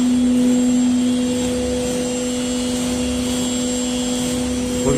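A CNC milling router with a 6 kW air-cooled spindle runs at a steady, loud whine with a constant high tone over a broadband hum, unbroken and close throughout, no voices.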